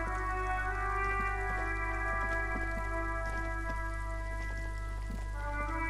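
Rain falls in the streets of Martinez in the video game Disco Elysium, a soft, steady patter of drops under a sustained tonal hum of ambient music.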